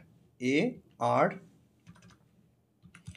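Light keyboard typing as a search term is entered, a few soft, close clicks in short clusters following two brief voiced sounds from a person.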